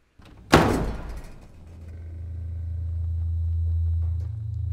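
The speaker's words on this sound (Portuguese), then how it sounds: "ouvindo os passos acelerados de Alma, o bater da porta e, por fim, o ensurdecedor silêncio" A door slams shut in a tense domestic scene from a Paul Thomas Anderson film, one sharp loud bang with a short rattle, followed by a low steady rumble of room tone.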